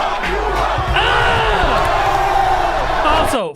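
A rowdy crowd at a rap battle in the film 8 Mile roars and whoops loudly, with shouting voices mixed into the dense cheering throughout.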